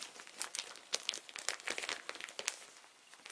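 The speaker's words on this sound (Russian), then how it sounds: "Ну, пошуршим немножко, но это нормально." Plastic packaging around a cotton bedding set from Ivanovo crinkles and rustles as it is opened by hand, a busy run of close, crisp crackles with no talking.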